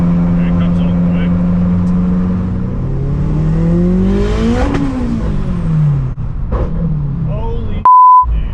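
A turbocharged 2.4-litre car accelerates hard, its engine tone climbing steeply through a gear and then dropping away as it shifts, loud and close, ending in a brief electronic beep.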